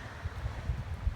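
Gusty wind buffets the microphone on a mountain section of the Appalachian Trail in West Virginia, a steady low rumble swelling in several soft surges, with no voices.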